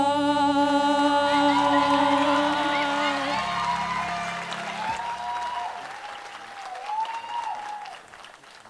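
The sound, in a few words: audience applause at a school assembly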